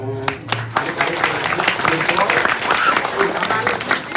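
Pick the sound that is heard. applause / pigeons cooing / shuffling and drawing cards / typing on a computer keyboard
applause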